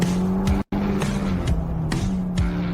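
A Ferrari Roma Spider on the road, its engine droning loud and steady while shifting up through gears, with brief tire noise and a momentary cut in sound.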